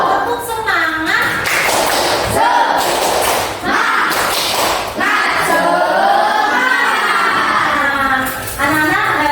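Schoolchildren in a classroom perform a rhythmic clapping chant, loud chanting voices mixed with thumping claps and slaps in a patterned beat, close and lively throughout.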